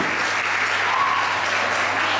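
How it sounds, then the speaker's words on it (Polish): Applause from guests at a Women's Day celebration in Wyszanów, steady and dense clapping throughout, fairly loud and continuous with a faint low hum underneath. "Można bić brawo."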